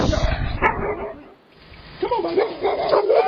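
A dog barks and yips nearby, loud and sharp, then after a brief pause whines and whimpers.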